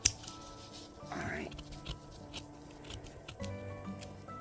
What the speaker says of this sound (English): you're going to cut the fabric into a small square